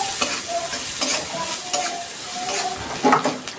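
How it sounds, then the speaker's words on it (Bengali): Chopped onions with a little salt and turmeric fry and sizzle in a pan for a Bengali hilsa fish head mash, with steady crackling and several soft stirring scrapes, close and alone with no talking. "এবার দিয়ে দিচ্ছি আমি ছোট ছোট 2টো পেঁয়াজ কেটে রেখেছি, সেই পেঁয়াজটা।"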